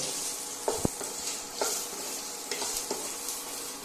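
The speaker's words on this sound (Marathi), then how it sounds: "भितर भेंडे घालपाचे आनी भेंडे बरे फ्राय करपाचे" Okra fries in a pan for Goan-style masala bhindi bhaji. Close, intermittent stirring scrapes and knocks sound over a steady moderate sizzle, with no talking.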